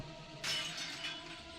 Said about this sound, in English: The mirror shattered to pieces as it slammed into the wall, scattering shards all around.